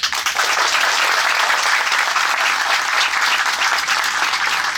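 Sustained applause from a large audience at the opening of a university physiotherapy and rehabilitation center, steady and dense throughout, loud and filling the whole space with no voices over it.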